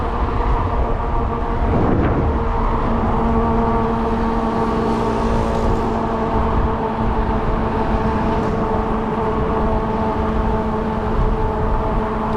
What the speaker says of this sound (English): There's a truck coming up behind me.